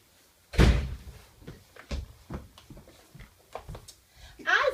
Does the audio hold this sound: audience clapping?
no